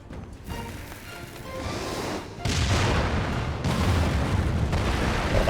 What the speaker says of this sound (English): Well, that's a big explosion, that's for sure.